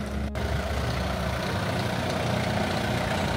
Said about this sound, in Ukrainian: Такі маленькі тракторці.